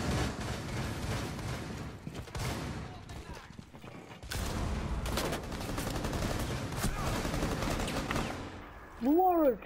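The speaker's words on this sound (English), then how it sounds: "Why are you shooting?" Repeated bursts of automatic gunfire crackle through a Rainbow Six Siege Terrorist Hunt match, rapid volleys broken by a brief lull, with mechanical clatter and a short warbling tone near the end.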